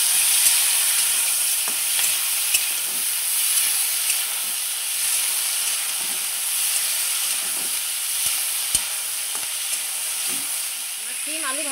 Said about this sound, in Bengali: আমার সিম আলু ভালো করে ভাজা হয়ে গেছে।